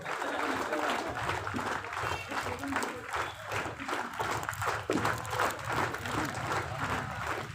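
Audience applause at a student union foundation day celebration fills the hall as a dense, sustained clatter, while someone talks over a microphone on top of it.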